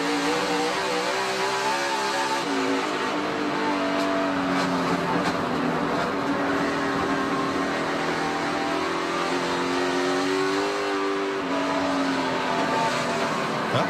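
A race car laps a dirt track during practice at the 2021 Food City Dirt Race, its engine roaring continuously as the driver works the throttle, rising and falling in pitch with on-and-off revving, loud and close.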